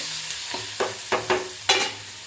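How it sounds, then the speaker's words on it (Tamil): Gentle sizzling of grated coconut sautéing in a pan with a few scraping stirs of a spatula, spaced irregularly, close by and with no talking. "கொஞ்சோண்டு திருகி வச்சுருக்கிற தேங்காய் பூவை போட்டு லைட்டாக கொஞ்சம் ஒரு வதக்கிட்டோம்னா"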